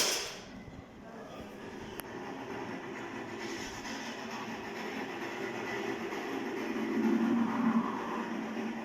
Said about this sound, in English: royal train has passed through.